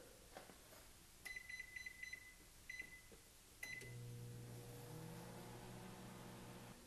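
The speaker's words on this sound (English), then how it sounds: "it's time to put it in the microwave." Several keypad beeps as buttons are pressed, then a microwave oven heating cheese dip starts up with a steady low hum and whir that continues.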